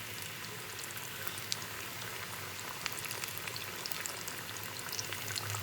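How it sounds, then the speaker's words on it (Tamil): KFC-style chicken pieces frying in hot oil, a steady close sizzling hiss with fine crackling pops throughout and no talking. "இப்போ எண்ணெய் கொதிச்சிட்டுது."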